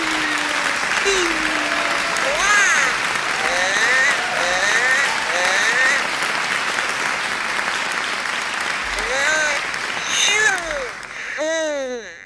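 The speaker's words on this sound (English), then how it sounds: "That amount of clapping." Sustained applause from a large group of passengers on a plane fills the cabin, with people cheering and talking over the clapping throughout.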